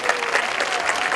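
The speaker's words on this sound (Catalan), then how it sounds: "Un fort aplaudiment." Audience applause fills a havaneres concert at the 2016 Costa Daurada havaneres sing-along in Calafell, a dense, steady clapping of a large crowd that holds level from start to finish.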